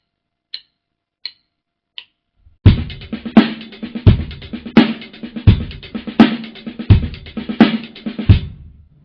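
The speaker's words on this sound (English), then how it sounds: "we've got the full pattern with the ghost notes as we're just playing them" A drum paradiddle-diddle pattern with quiet ghost notes between louder accents, opening with three sparse clicks before steady, close sticking of repeating strokes runs for several seconds with regular accented hits.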